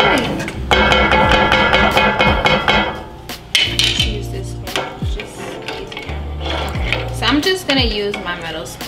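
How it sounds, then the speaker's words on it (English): A metal spoon stirs farina in a pot with repeated scraping and clinking. Background music plays throughout and is louder than the stirring. "Use my metal spoon. All right, so stir that up."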